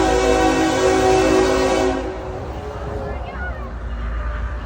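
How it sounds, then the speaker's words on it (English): A loud train rumbles past up close near Chestnut Hill Road, its horn blaring in a sustained tone for about two seconds before fading into heavy rolling noise, with voices faintly underneath. "It is so loud. There's a train."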